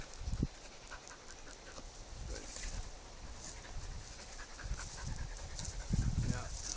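Several Norwegian Elkhound hunting dogs pant close by on an off-leash hike, steady breathy rasps with occasional louder bursts, under background rustle and a person talking.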